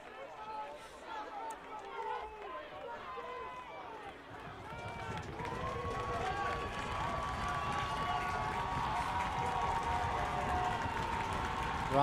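A high school football crowd at Farmingdale versus Oceanside grows louder, a distant murmur swelling into sustained cheering and roaring from the stands, with a commentator talking over it throughout.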